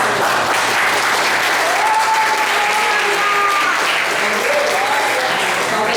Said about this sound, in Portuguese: Vamos ter as outras palmas para o Senhor,